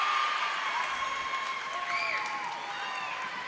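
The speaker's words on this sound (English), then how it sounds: "Crowd is rowdy." Crowd at a girls' high school senior-night volleyball match, a sustained roar of cheering, applause and whoops filling a gym, heard loud and continuous with no pause.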